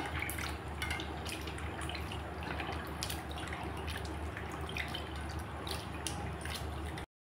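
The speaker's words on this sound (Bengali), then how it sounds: "এখন আমি মাছগুলোকে গরম জলে ভালো করে ধুয়ে নেব।" Tangra fish being washed in hot water, with steady dripping, splashing and squishing of wet fish handled close by, continuous and fairly quiet throughout.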